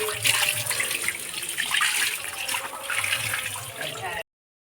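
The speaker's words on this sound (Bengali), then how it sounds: "এই আঠাটা একটু জলে ধুয়ে নেব" Tap water runs steadily over a freshly cut large young jackfruit to wash off its sticky sap: a close, continuous splashing gush lasting about four seconds before stopping abruptly.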